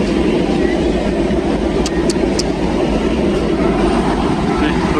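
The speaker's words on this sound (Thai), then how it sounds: "รถไฟนั่นแล่นเมื่อกี้" A train runs past along a multi-lane rail line in Thailand as a loud, steady rumble and roar fills the whole stretch, with faint high squeaks briefly audible above the noise.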